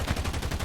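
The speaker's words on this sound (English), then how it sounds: "this is a biplane, might as well take him head on with my frontal turret" Frontal turret machine gun on a BV-138 flying boat in War Thunder, firing a rapid, steady burst of closely spaced loud shots, heard alone for under a second.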